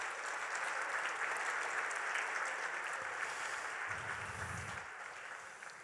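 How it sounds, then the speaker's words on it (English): An audience at an alumni of distinction ceremony applauds the 2021 honorees, a broad wash of clapping that stays steady and fairly distant before fading a little near the end. "So let's have a round of applause for our virtual this tonight, but now real 2021 honorees."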